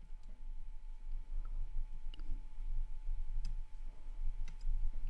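A computer mouse button clicks a few times, faint and sparse, over a steady low hum, while a button is pressed in design software.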